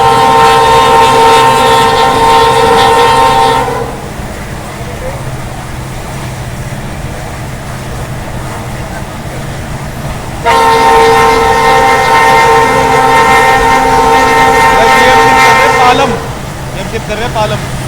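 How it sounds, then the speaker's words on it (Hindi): The locomotive of the Rajasthan Sampark Kranti Express, running from Delhi toward Jodhpur at speed, gives a loud growl with two long, strong tonal blasts over a constant heavy rail rumble. "PMT का ग्रॉल आ रहा है तगड़ा भाई।"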